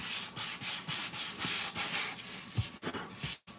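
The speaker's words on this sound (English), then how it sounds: "I'm going to sand off this little edge here." Hand sanding along the edge of a miniature diorama piece with 120 grit sandpaper on a sanding block, a steady series of close, rhythmic scratchy back-and-forth strokes that pause briefly near the end.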